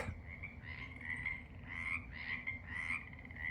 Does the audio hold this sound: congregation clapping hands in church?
no